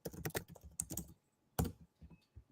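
An email address is tapped out on a computer keyboard in quick clusters of close, crisp keystrokes, separated by short pauses and ending in a few isolated taps.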